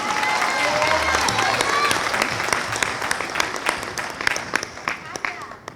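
Applause from the audience at a spring university graduation ceremony, dense and steady clapping that slowly thins out into separate claps, with speech over it.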